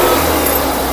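A car engine runs loud and close in a brief burst of revving, with a steady rumbling drone throughout and no voices.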